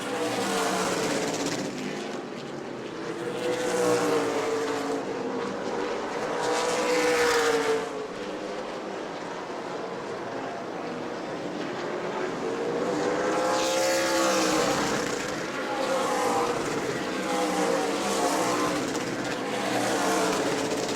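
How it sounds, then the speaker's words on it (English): Super late model race cars at New Smyrna roaring down the long front straightaway, loud engine drones rising and falling in pitch as cars pass one after another, with race commentary running over the noise. "Here comes Brad May again off 4 down the long front straightaway here."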